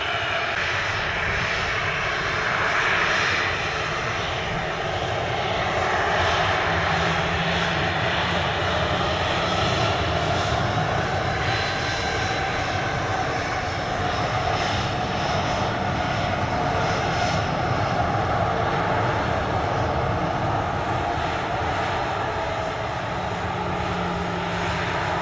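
An airliner on takeoff from runway 25 at Montego Bay airport, Jamaica, gives a continuous loud engine roar with a broad rumbling wash that holds steady throughout, heard from a distance.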